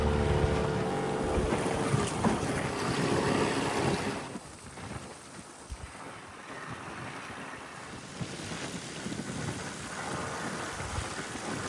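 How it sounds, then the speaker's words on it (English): A ranger's boat engine drones past on the water off Limestone Island amid wind and rushing noise, louder at first and then fading to a steadier, quieter wash. "That's the ranger's boat going past."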